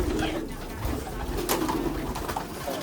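Soft pigeon cooing blends into a busy, noisy background, with faint murmuring voices mixed in throughout.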